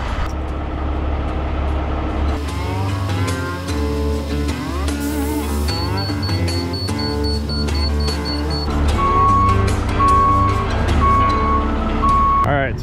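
A vehicle backs up with a steady series of loud, evenly spaced reversing beeps, heard over a dense bed of engine rumble and other mechanical noise during yard work.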